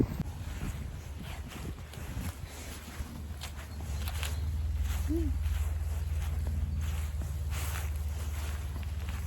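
Steady, strong cold wind in rural Latvia buffets the microphone in a constant low rumble, with a faint engine-like drone underneath and no talking.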